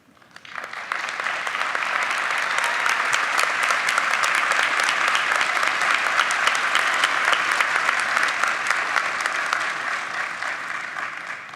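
An audience applauds graduates at a nursing school pinning ceremony, steady sustained clapping from a large crowd that swells and holds loud for over ten seconds, then begins to taper.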